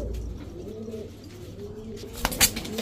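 Pigeons coo in a low, rolling rhythm throughout, with a couple of sharper flutters or bird calls near the end, all fairly close in a pigeon-selling setting.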